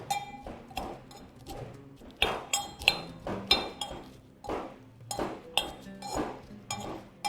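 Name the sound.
crushing garlic with salt in a mortar and pestle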